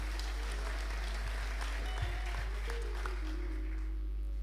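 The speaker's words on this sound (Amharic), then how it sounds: "አጨብጭቡ ለጌታ ክብር።" A church congregation applauds together, a dense wash of clapping that holds steady and then thins out and fades toward the end over a constant low hum.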